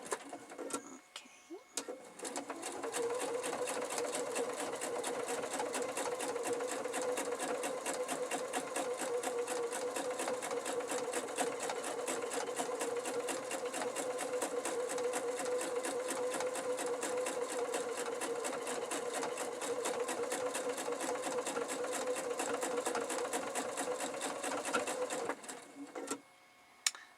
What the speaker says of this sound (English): And let's sew this one.